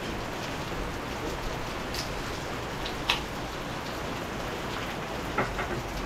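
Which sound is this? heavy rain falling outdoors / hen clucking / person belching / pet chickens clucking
heavy rain falling outdoors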